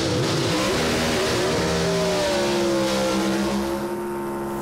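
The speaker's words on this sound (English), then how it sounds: "they both do high revving burnouts" Two Pro Stock drag racing cars perform high-revving burnouts at a Sydney drag strip, their engines screaming in loud, sustained rising and falling tones that overlap and fade slightly toward the end.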